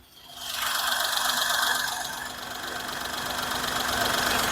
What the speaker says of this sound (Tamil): இன்ஜினோட நாய்ஸ் உங்களுக்கு கிளியராக கேட்கும்.